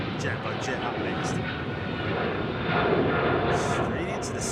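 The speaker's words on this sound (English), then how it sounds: "Jambo jet up next." A jumbo jet takes off from runway 27R at London Heathrow with a broad, steady engine roar that swells slightly toward the end, heard from a distance, while people talk nearby.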